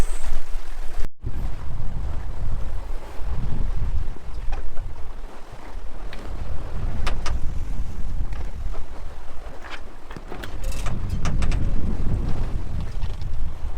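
A sailboat under sail crossing the Bay of Biscay at about seven knots, with steady loud wind buffeting and rushing water along the hull, and a few brief clicks and knocks near the end.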